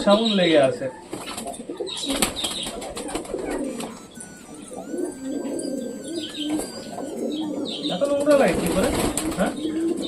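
Pigeons coo softly nearby amid bursts of flapping wings, while a person talks over the birds.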